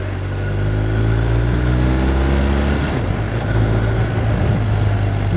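A 2023 BMW R1250R motorcycle accelerates hard, its engine note climbing steadily and loud before a quick-shifter upshift at about three seconds drops the pitch, then it pulls again with a rising drone.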